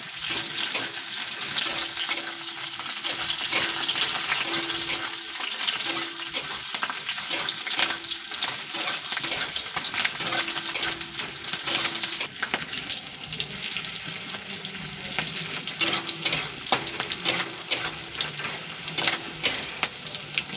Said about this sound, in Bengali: তো গোটা লঙ্কা ছিল দুটো, সেটাও দিয়ে দেওয়া হয়েছে। তেলে ভাজা হচ্ছে এটাকে।